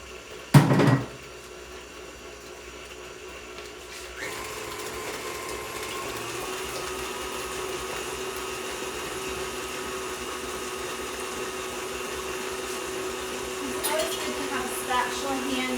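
An electric mixer beats chocolate chip cookie dough: a brief thump, then a steady motor whir that starts a few seconds in and runs on evenly, swelling slightly near the end.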